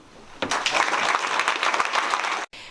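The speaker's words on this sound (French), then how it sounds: "Et c'est pourquoi nous vous applaudissons." An audience applauds young volunteers of a youth solidarity commission in a broad burst of clapping that swells quickly, holds steady for about two seconds, then cuts off abruptly.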